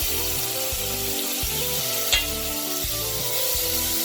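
Pigeon peas are stirred into a frying rice mix for Haitian diri ak pwa congo, a constant close sizzle broken by repeated rhythmic scrapes of a spoon through the pot, with one sharper clink midway.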